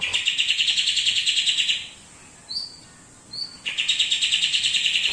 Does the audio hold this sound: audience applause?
no